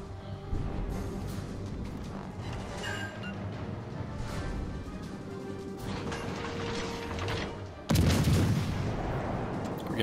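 Naval shells firing in the World of Warships Legends video game, scattered dull booms and mechanical rumbling, then a loud sudden blast near the end with a sustained roar.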